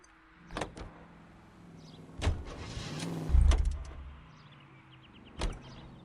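A car in the LA Noire video game gives several sharp mechanical clunks and thuds of handles and locks, with a louder heavy thump midway and a final click, close and clear with no talking.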